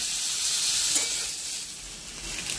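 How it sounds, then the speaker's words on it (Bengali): Potatoes fry in a pan of hot oil with a steady close-up sizzle and hiss. The sound is fairly quiet, with small crackles and faint stirring and no voices. "আলুগুলো ভেজে নেবো,"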